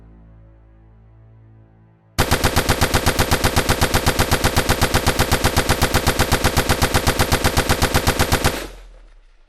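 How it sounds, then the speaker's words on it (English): Two 20mm aircraft cannons, eight machine guns and about four dozen FAL rifles open fire together at point-blank range in a bush war camp attack, a loud continuous rapid burst of gunfire lasting about six seconds after a quiet start, then abruptly cut off. "the 2 20mm aircraft guns, 8 machine guns, and approximately 4 dozen FALs opened fire"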